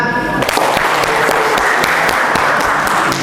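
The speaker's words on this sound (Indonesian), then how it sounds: "Tepuk tangan." Steady applause from an indoor audience at a BPPT Yogyakarta gathering, dense and even clapping that fills the whole stretch at a loud level without break.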